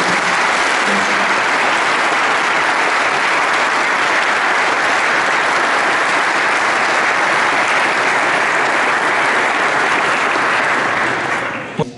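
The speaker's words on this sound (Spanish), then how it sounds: "Les damos un fuerte aplauso a todos los hermanos" A congregation at a Chrism Mass applauds in a loud, dense, sustained wash of clapping that runs for about twelve seconds and stops abruptly at the end.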